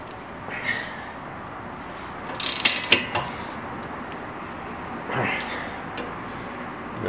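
A ratchet works on the wheel lug nuts of a 2008 Subaru Outback, giving sparse clicks and a couple of louder metallic ratcheting bursts over a low, steady background.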